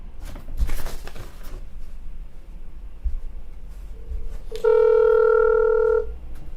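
Telephone call to a city hall in Cedarville, Ohio: faint handling noise and soft clicks, then a single loud steady ringback or dialing tone lasting over a second, close and clear with no talk.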